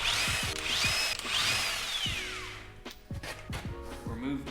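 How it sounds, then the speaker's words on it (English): A power tool with a 19mm socket spins lug nuts off a Ford Taurus wheel in several short whirring bursts that rise and fall in pitch, separated by brief pauses and clunks. "you'll need a 19mm socket to remove the lug nuts."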